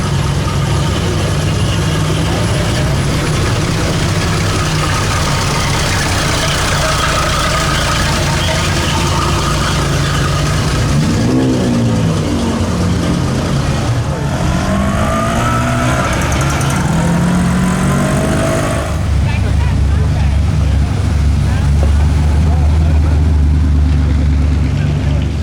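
A Vistione car drives past during Monterey Car Week with a low engine rumble and revs rising and falling as it goes by, while people talk over the sound and a crowd murmurs around it.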